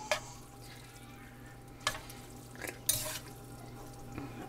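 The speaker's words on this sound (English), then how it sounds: "I'm just going to stir and mix" Bruschetta pasta and chicken are stirred and mixed in a pan, with a few soft scraping clacks of a utensil over a faint, steady kitchen hum.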